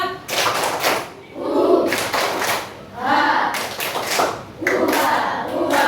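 An elementary class clapping together in a spirit clap chant, loud rhythmic bursts of group handclaps in several rounds with voices shouting along.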